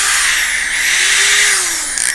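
A brushed electric drill with a speed range up to 750 rpm runs steadily, a loud, smooth whine that rises and dips slightly in pitch for about two seconds, close up, with no talk.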